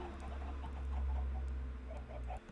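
Chickens cluck softly in a Minecraft sky block world, a few faint, scattered clucks over a low steady hum.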